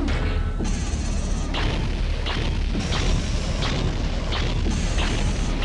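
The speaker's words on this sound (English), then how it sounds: "I am dodging missiles like nobody's business." Missile explosions in a video game boom repeatedly and loudly, with heavy rumbling blasts spaced about a second apart over a dense, continuous roar.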